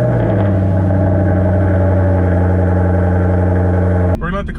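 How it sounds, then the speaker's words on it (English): A supercharged Corvette engine idles after a cold start, a loud steady low drone with strong harmonic hum, close up, holding evenly until it drops away abruptly near the end. "so I think we need a little bit of a cold start."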